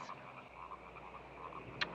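Frogs croak through the night in a steady chorus, repeated calls overlapping at moderate distance with one sharper, nearer croak near the end; no voices.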